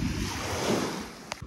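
Sea waves wash steadily on a North Cyprus shore while wind buffets the microphone, a continuous broad rush with no voices.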